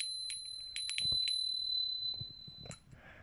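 The small Zakopane bell called Jan is struck in a quick irregular cluster of bright dings, then its tone lingers as fainter knocks and handling noises follow near the end.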